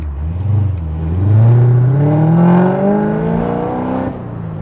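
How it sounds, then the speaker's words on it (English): A 2017 Corvette Z06 engine revs up, climbing steadily in pitch to a loud sustained roar, then easing off near the end. "The sound coming out of this car is unlike any other I've ever driven"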